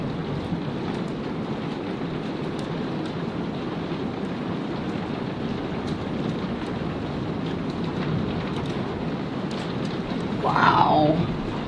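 Steady heavy rain pours through a severe thunderstorm, with a dense, constant wash and a louder rumbling swell of thunder near the end.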